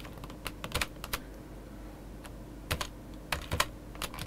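Someone types on a computer keyboard while building an HTML page, producing irregular clusters of close, crisp keystrokes with short pauses between bursts and no talking.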